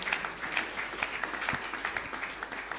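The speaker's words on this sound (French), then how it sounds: "Acclamons encore très très fort" A church congregation applauds and cheers for a man whose health was restored, a brief burst of dense, close clapping with a few sharper individual claps standing out.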